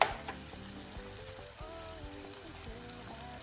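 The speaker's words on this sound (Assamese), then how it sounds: "এতিয়া আমি ফ্লেমটো হাই কৰিম আৰু ইয়াত গোটে মছলাখিনি 5 মিনিট সময় ভাজিম হাই ফ্লেমত" Whole spices frying in oil in a pan over a high flame for a homemade chicken roast, giving a steady low sizzle and crackle that stays even throughout, with faint scrapes and clinks of stirring.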